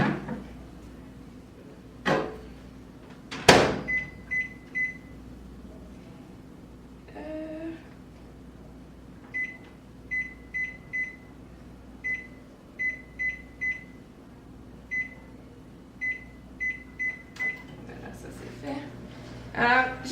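A microwave oven heats butter and chocolate for a dessert, a low steady hum with a door or cupboard clunk near the start and a run of short electronic beeps repeating throughout.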